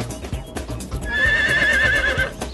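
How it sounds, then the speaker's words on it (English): A horse in a children's fairy tale gives a loud, close, wavering whinny lasting about a second, over a background of rhythmic clip-clop hoofbeats. "soon they all passed a horse"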